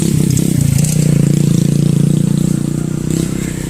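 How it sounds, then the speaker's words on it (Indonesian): Trail motorcycles riding past on a road by a housing estate, a loud steady engine drone with a rattling, pulsing rumble throughout. "Ini ada yang lagi ngetrail nih."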